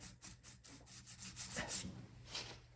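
A brush with brake cleaner scrubs the damaged engine block of an Ariens snow blower, giving repeated short rubbing and rasping strokes, close and fairly quiet, with a low steady hum beneath.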